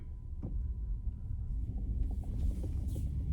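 A car drives along a rural Kansas road with a steady, low engine and road rumble throughout and no talking.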